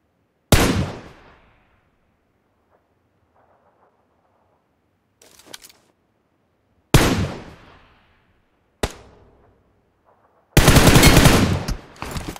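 M4 rifle gunfire in the PUBG Mobile battle royale game: several loud, sharp bursts of shots separated by pauses, ending in a sustained rapid burst, with no talking over it.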